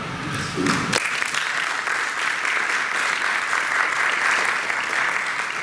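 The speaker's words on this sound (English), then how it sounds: "Now you can clap." A room full of people at a school board meeting applauding steadily, a dense patter of clapping that starts abruptly and carries on evenly at moderate volume.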